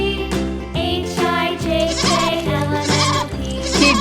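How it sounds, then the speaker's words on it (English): A young goat kid bleats repeatedly on a farm, its wavering, nasal cries coming loud and close in quick succession. "K is for kid."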